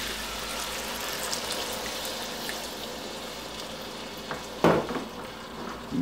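A spoon stirs Bolognese sauce with red wine, thyme, oregano and bay leaves in a pot, a faint steady simmering hiss with a couple of brief scraping clinks near the end.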